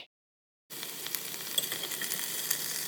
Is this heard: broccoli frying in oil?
yes